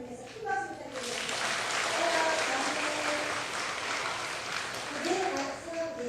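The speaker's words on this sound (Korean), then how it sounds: "큰 박수 부탁드립니다" A church congregation at an afternoon service with new members breaks into applause after a brief spoken line, the clapping dense and sustained for several seconds while a few voices carry on underneath.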